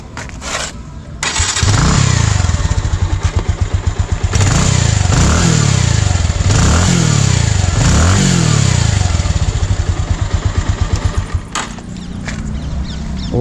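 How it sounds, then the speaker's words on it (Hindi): Bajaj Avenger motorcycle on its stock exhaust, started up and then revved repeatedly close by, with several sharp throttle blips rising and falling over a rumbling idle, loud and alone. "तो अब आपको एक एक करके सारी बाइक्स का साउंड सुनाते हैं। तो शुरू करते हैं अपन सबसे पहले एवेंजर से।"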